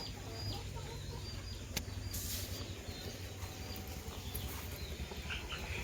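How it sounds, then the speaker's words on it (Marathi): Faint chirping and cheeping from sparrows and chicks, with occasional clucks from hens, set against a steady outdoor background hum. "चिवचिवाट तर एवढा चालू असतो त्यांचा"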